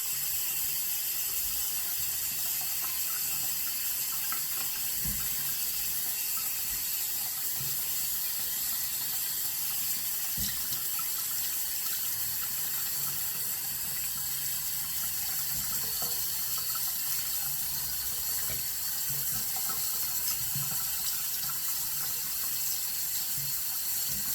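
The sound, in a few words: hot water running from a faucet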